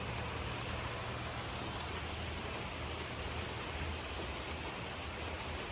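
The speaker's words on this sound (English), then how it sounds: "raining." Steady rain falls outdoors on the ground and nearby surfaces, a constant even hiss of drops with no voices over it.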